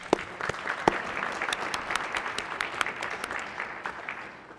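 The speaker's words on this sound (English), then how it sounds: "If you could give them a round of applause." An audience on a state Senate floor applauds interns and a legislative assistant, a continuous patter of many hands clapping at moderate distance that thins and fades near the end.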